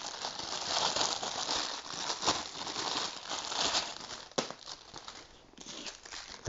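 Packaging for Footprint Kingfoam Orthotic Skeleton Insoles crinkles and crackles steadily as it is handled up close, with a few sharper rustles and snaps along the way and no voices.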